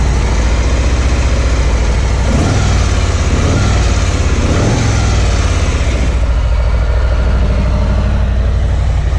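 A 2018 Harley-Davidson FXLR Lowrider engine with factory mufflers runs loud and close, a steady low rumble that swells through a few blips of higher revs before settling back.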